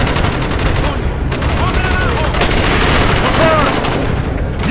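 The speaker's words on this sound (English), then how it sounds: "Where are we shooting at?" Dense, continuous gunfire in the video game Call of Duty Black Ops, loud rapid bursts layered over one another without pause, like an ongoing firefight.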